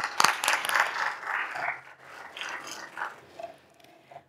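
Crowd at a Tamil music album launch in Singapore claps for a prize winner, starting in a strong burst, then thinning into scattered, uneven claps that fade out by the end.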